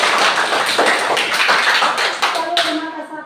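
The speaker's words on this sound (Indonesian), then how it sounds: "tepuk tangan dulu." Classroom clapping after a group presentation, a burst of many hands that thins out and fades toward the end, with faint voices underneath as it dies away.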